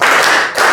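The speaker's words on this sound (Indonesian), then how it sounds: "Tepuk 1, tepuk 2, tepuk 3, tepuk 4" Rapid, dense claps from a group of hands in a classroom, steady and fairly loud across the whole moment with a brief dip near the end.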